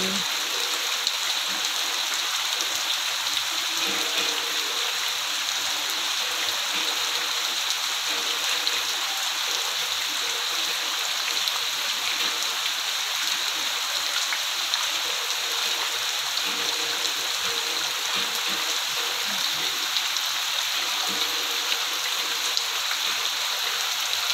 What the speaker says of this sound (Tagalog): Ang lakas ng ulan, grabe.